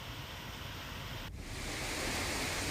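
Sunsar waterfall in Bhiloda, swollen after heavy rain, gives a steady, loud broadband roar of rushing water that swells slightly near the end, with no voices.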